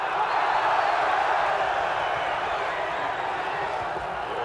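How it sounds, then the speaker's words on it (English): A British boxing crowd at a Minter versus Hagler fight sends up a steady, dense roar that holds loud and unbroken for the full stretch, a wall of many voices with no single shout standing out. "You'll hear this British crowd roar with every exchange, particularly if one exchange favors Minter"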